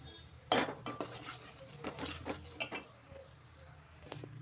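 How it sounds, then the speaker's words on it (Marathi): Masala is stirred and sautéed in a pan, with a spoon clinking and scraping against the metal in irregular bursts over a faint, low sizzle. "आता हे छान मस्त मिक्स करून घेऊया सगळा मसाला टाकूया आपण याचा छान तेल सुटेपर्यंत मस्त परतून घ्यायचं आहे"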